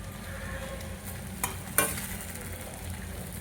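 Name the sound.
turmeric sizzling in hot oil for poha with peas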